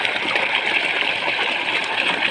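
A pump driven through a VFD inverter, its pressure raised by the PB04 setting, sends out water in a continuous close gushing hiss. The level stays steady throughout.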